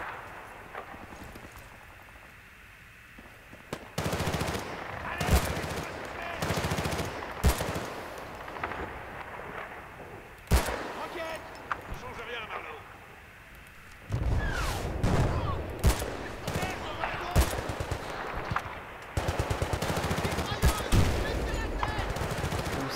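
Bursts of machine gun fire in Battlefield Bad Company 2, loud rapid rattling volleys broken by short pauses, with other gunfire and explosions of battle behind them.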